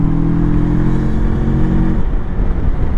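Rieju Aventura 500 motorcycle engine pulling in fifth gear, a loud steady droning hum that holds and then softens into rougher rumble as the throttle eases.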